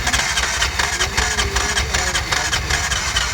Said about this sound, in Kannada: ಸ್ಟಾರ್ಟ್ ಕರೆ ಅಣ್ಣ ಗೇರಲ್ಲಿ ಇಲ್ಲಂದ್ರೂ ಸ್ಟಾರ್ಟ್ ಆಗ್ತದೆ ಗಾಡಿ.